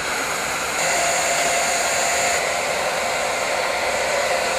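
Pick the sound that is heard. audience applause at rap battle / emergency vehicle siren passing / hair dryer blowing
hair dryer blowing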